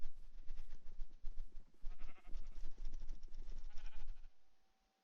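Repeated sheep bleats in a video game, several overlapping calls in quick succession, fairly close and loud, then cutting off into near silence at the end.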